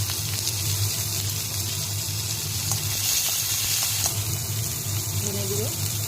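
Steady, close sizzling of tomato frying in a pan for a quick breakfast tiffin, with a low hum underneath and faint clinks, no talk over it.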